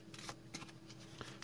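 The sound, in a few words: shuffling a deck of playing cards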